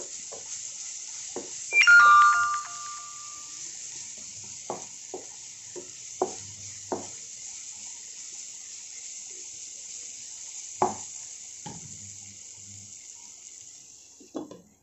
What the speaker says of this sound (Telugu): ఒక 2 నిమిషాల పాటు దీన్ని కూడా పచ్చివాసన పోయే వరకు వేయించుకోవాలి